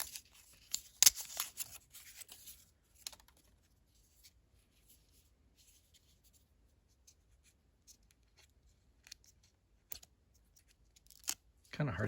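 Close, intermittent crinkling and tearing of packaging as a GoPro HERO 11 Black Mini is unwrapped, with short bursts scattered between long quiet gaps and a louder rustle at the end.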